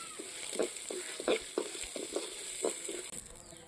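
Dried red chillies, fenugreek seeds and curry leaves crackle and sizzle in hot oil for sambar, a soft steady frying hiss broken by repeated small pops and spatters, close and fairly quiet with no voices.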